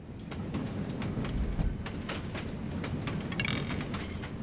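Train running ambience in a video game: a continuous rumbling rail-car drone with light rhythmic clicks and rattles, steady and moderately quiet, no voices over it.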